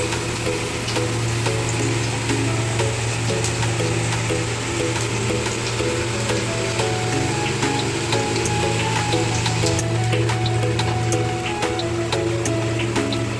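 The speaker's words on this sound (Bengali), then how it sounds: "এবার একটা একটা করে বড়া আমরা তেলের মধ্যে দিয়ে দেবো।" Kolmi shak (water spinach) fritters dropped one by one into hot oil, a continuous bubbling sizzle with a steady low hum and occasional clicks and pops, fairly loud and close with no talk.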